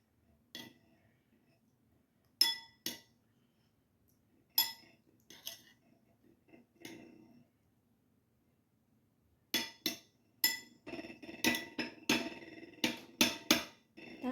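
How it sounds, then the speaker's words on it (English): Spoon stirring chicken porridge in a pot, with sharp metallic clinks and scrapes against the pot coming in scattered bursts with quiet pauses, then a faster run of repeated clinks near the end. "Then we stir it."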